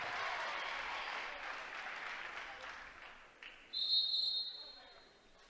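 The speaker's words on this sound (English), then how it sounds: "And now we get a whistle." Referee's whistle sounds at a girls' basketball game between Hamilton and Loyola, one loud sustained blast with a brief second toot, following crowd applause and cheering that fades beforehand.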